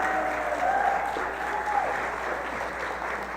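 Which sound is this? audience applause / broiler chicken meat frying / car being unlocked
audience applause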